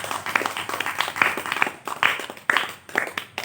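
Audience applause at a devotional religious gathering, with a moderately loud crowd of hands clapping in uneven bursts for a few seconds.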